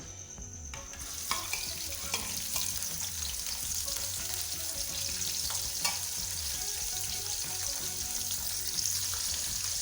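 A medium-sized onion fries in oil with cinnamon and bay leaf for chana pulao, producing a steady close sizzle with spoon scraping and stirring noises throughout, and no talking.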